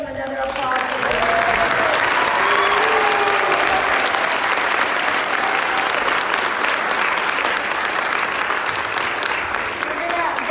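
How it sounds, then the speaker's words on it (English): Church congregation applauding a group of kids standing up during a worship service, a steady, full burst of clapping lasting around ten seconds, with voices and a few cheers mixed in. "I want you to give them another applause."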